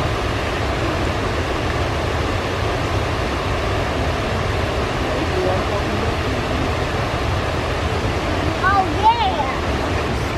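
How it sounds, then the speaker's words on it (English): A waterfall on a nature walk gives a loud, constant rushing roar throughout, with a brief high voice near the end. "There's a waterfall. Look at this waterfall."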